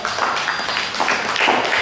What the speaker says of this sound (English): Go ahead and give him a big round of applause.